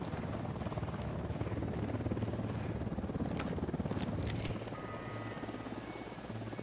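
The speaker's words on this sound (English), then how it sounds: "Helicopter inbound." A helicopter in Ghost Recon Wildlands thumps with rapid, steady rotor chopping and a low engine drone, fairly close and persistent, with a few sharp metallic clicks partway through.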